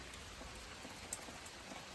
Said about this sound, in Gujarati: આયા વરસાદ આવે છે